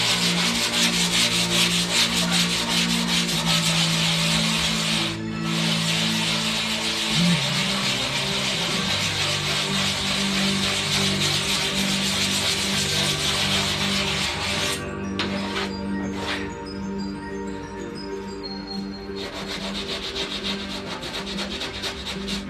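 Steady, continuous close block sanding across the body of a Saiyan pod replica, rough scratchy rubbing strokes with brief pauses in rhythm, loud and without talk.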